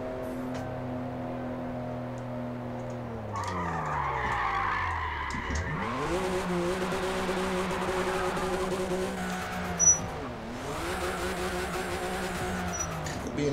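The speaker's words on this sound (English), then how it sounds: "So listen to those turbos, man." A BMW M2 drifting in the Forza Motorsport video game, with engine tones rising and falling, tire squeal and skidding, plus turbo whoosh over a steady mechanical drone, moderately loud, with no speech.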